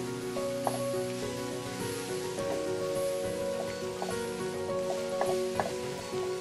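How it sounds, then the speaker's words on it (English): Fresh kale cooks down with leftover turkey hash in a pan, a soft steady sizzle broken by a few light stirring taps and clinks, fairly quiet. "we're going to add our fresh kale. And I'm just going to add it to the top and kind of stir it in a little bit"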